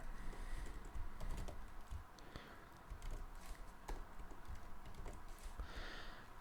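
Steady typing of C# code on a computer keyboard, a quiet, continuous patter of key clicks with small irregular pauses, close and alone.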